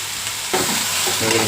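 A drumstick-leaf and egg fry sizzles in a pan as a spatula scrapes and stirs it, the stroke sounds close and loud over the constant frying hiss.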